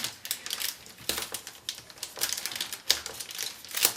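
Packaging crinkles and rustles loudly up close while a Dell G5 15 5590 laptop is unboxed, a busy run of sharp crackles and crumples in irregular bursts, with no talk.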